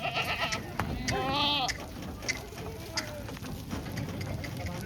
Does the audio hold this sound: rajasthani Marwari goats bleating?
yes